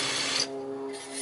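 A close, steady whine of a drill bit grinding into material during a Ryobi copper oxide versus Harbor Freight titanium oxide bit test, a bright rasping hiss that drops off midway, leaving the motor's hum.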